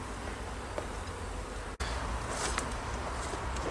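Honey bees buzz steadily around a hive frame during beekeeping work, a continuous close hum with brief louder passes, interrupted by a momentary dropout.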